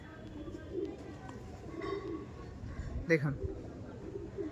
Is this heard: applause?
no